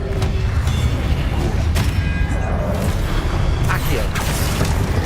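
A spell blasting in Hogwarts Legacy: dense game combat noise with mechanical clatter, creaks and dull booms. Sharp hits land near 0.3, 1.8 and 4.2 seconds over a constant loud low rumble.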